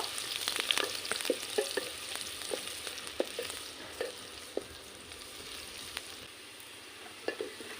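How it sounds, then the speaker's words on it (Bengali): Chopped onions fry in hot oil in a pan for a mutton curry, giving a steady soft sizzle broken by scattered clicks and scrapes of stirring, with no talking. "এখন দিয়ে দেবো পেঁয়াজ কুচি। পেঁয়াজ আমি ভেজে নেব।"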